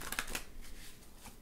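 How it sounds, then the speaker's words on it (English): A deck of playing cards given a quick ruffle shuffle, a fast fluttering riffle of cards right at the start, followed by soft handling noises, faint and close. "Give them a ruffle shuffle here,"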